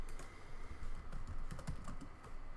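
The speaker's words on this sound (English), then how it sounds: "So we can type in Ansible" Rapid typing on a computer keyboard, a steady patter of quiet key clicks with no voice, keys struck continuously throughout.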